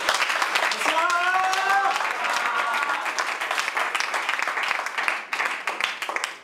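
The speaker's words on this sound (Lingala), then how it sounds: "je vous demande d'applaudir Jodia" Sustained applause from a comedy festival audience in Kinshasa, dense clapping filling the room throughout, with a brief voice rising over it near the start before the clapping carries on steadily and tapers slightly at the end.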